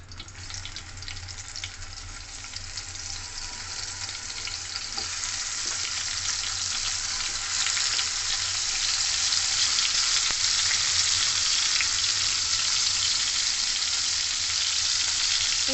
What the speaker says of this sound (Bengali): তেলটা ভালো করে গরম হয়ে গেলে এখানে যে বেগুনটাকে আমি হলুদ নুন মাখিয়ে রেখেছিলাম সেটা আমি ভেজে নেব।